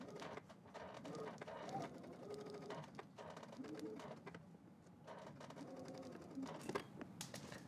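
A sewing machine stitches a garment seam from dot to dot, giving off a steady, fairly quiet mechanical whirr with a rhythmic ticking texture throughout.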